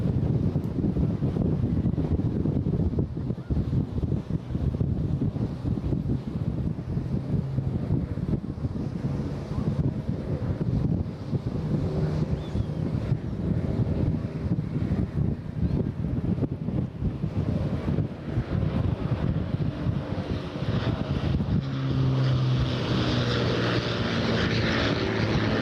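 Avro Lancaster PA474, a 1945 Vickers Armstrong-built bomber, flies at the Eastbourne seaside airshow with a loud, steady piston-propeller drone that holds throughout, mixed with wind buffeting and surf, while a deep engine tone swells near the end.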